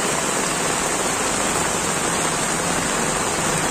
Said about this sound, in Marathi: विरारला खूप पाऊस पडतोय